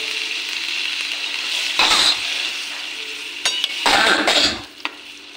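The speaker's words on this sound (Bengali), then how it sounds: "ফোড়নটা মিশে গেছে, এখন একটু পরিমাণ মতো জল দিয়ে দেব" Water poured into a pan of frying spice tempering gives bursts of loud hissing sizzle over a steady background fry, with stirring scrapes and a few clinks of utensil on metal, close by and without speech.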